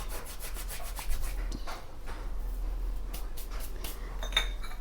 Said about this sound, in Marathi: हा ओवा आहे अजवाईन तर आपण थोडंसं असं क्रश करून टाकूया